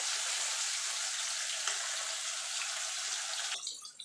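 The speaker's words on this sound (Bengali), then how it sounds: "মাছগুলো আমি এপিট ওপিট করে লাল লাল করে ভেজে নেব।" Rohu fish pieces frying in oil give a dense, even hiss close up that holds steady for a few seconds, then drops off suddenly near the end, with no voices.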